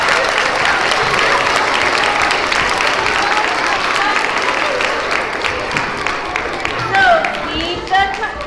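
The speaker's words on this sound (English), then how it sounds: "Give yourself a round of applause." Children applauding at a pre-K to third grade school assembly, a busy wash of clapping from a crowd of kids that fades toward the end, with some voices and cheers near the close.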